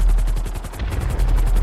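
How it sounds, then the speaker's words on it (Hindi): Diwali firecrackers bursting in the video game GTA 5, a dense, loud, rapid crackle of repeated pops and bangs continuing steadily throughout, like a long string of crackers going off. "चारों तरफ लाइट्स और पटाखों की आवाज"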